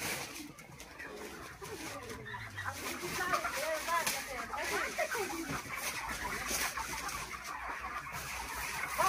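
Crowded poultry shed packed with hens, a dense, continuous wash of clucking and fluttering bird calls, with people talking through it.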